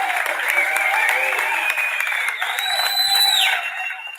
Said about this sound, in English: give a big round of applause for Destiny's Child